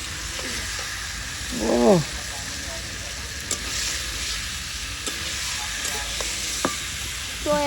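Food sizzling and frying in a clay pot set on a clay stove at night, with steady hissing broken by scraping stirs and clinks of the spoon; a brief voice sound cuts in once.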